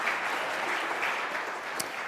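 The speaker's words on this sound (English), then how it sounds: "Give a round of applause." Steady applause from a church congregation thanking the chalice lighters at a Sunday morning Unitarian Universalist service, a dense even patter of clapping hands filling the room throughout.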